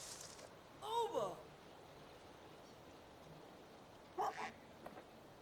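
A video-game hunting dog gives two short bursts of barking, a few seconds apart, in a duck hunting game over quiet ambient background noise.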